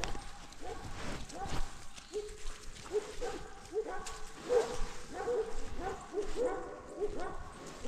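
Herding dogs working with sheep bark repeatedly at a moderate distance, short sharp yips in an irregular series over outdoor background noise.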